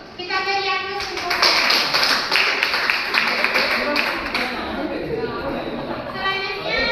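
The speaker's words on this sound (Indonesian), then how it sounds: "Kita beri aplaus untuk" Classroom applause for a group presentation during a peer-lesson teaching practice: a dense, steady patter of many hands clapping for several seconds while a voice speaks over it.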